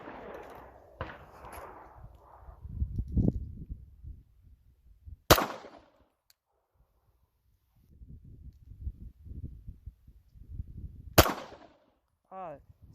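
A Glock pistol fitted with a striker control device fires two sharp, loud gunshots several seconds apart, separated by quieter handling and rustling, with a brief metallic ring at the end.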